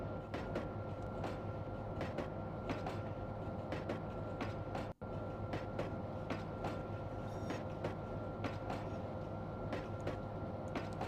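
Kakatiya Express slowing down in the Trainz game, a steady simulated rumble of rail wagons with rhythmic clicks and a low engine hum, moderately loud and continuous except for one abrupt dropout partway through.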